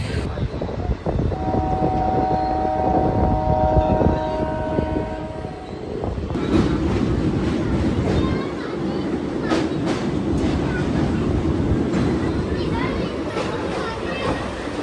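A train rumbles past with rhythmic rattling of wagons and wheels over the rails, loud and continuous, with some voices faintly in the background.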